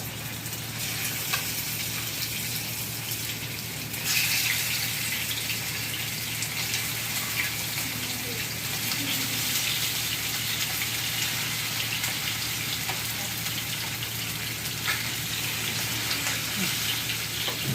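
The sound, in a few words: mackerel frying in hot oil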